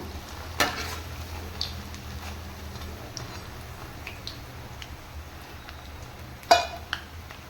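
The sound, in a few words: deep-frying susiyam sweet dumplings in oil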